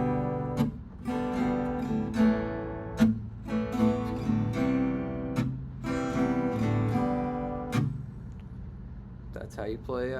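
An acoustic guitar plays a song, with strummed chords and plucked notes ringing in a steady rhythm, close and clear with no talking.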